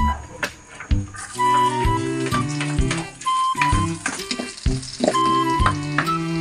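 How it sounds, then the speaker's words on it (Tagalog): Garlic and onion sautéing in an oiled pan for pork Bicol Express, a steady sizzle with stirring, heard under louder background music. "Magigisa na muna tayo ng bawang at sibuyas."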